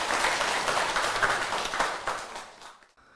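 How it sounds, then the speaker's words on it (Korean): A Buddhist temple audience claps during a dharma talk, a fairly dense round of applause that surges in soft waves and then quickly dies away to silence. "박수 한번 치세요"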